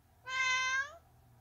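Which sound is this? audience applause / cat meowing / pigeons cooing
cat meowing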